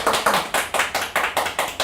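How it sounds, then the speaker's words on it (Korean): Audience at a Korean healing talk show claps in a brisk, even rhythm, about two claps per second, close and loud, with no voices over it. "여러분 일단 박수 한번 보내주세요."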